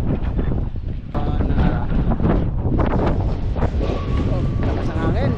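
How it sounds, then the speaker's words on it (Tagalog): Strong wind buffets the microphone outdoors at an open construction site with canteens going up, a steady low rumble of gusts across the whole stretch with a voice talking over it. "Lakas ang hangin."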